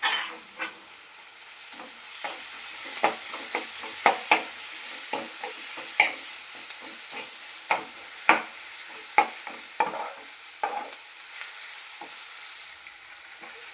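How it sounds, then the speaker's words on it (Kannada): Grated raw mango fries with green chillies and onion in a pan, giving a soft steady sizzle broken by sharp clicks of a utensil stirring, close by, with no talking. "ಆಮೇಲೆ ಈಗ ನಾವು ಮಾವಿನಕಾಯಿ ತುರ್ಕೊಂಡು ಇಟ್ಕೊಂಡಿದ್ವಲ್ಲ ಅದನ್ನು ಹಾಕ್ಕೊಳ್ಳೋಣ"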